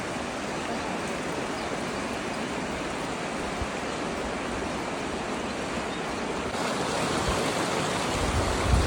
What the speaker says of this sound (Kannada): ನೋಡ್ರಿ ಇಲ್ಲಿ ನೀರು ಹೆಂಗೆ ಹರಿಯಾತೈತಿ